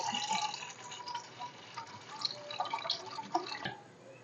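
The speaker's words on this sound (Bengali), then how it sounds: "একটা পাত্রেতে জল দিয়ে দিচ্ছি" Water is poured into a pot for a homemade ice cream recipe, a quiet splashing and trickling stream with scattered drips throughout, close by and without talk.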